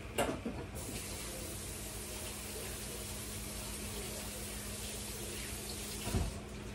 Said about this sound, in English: let me wash that off my hands, y'all.